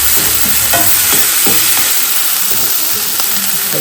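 Burger patties fry in a pan, seasoned with salt and pepper, with a loud continuous sizzle and several spatula scrapes and taps while they are stirred, heard up close.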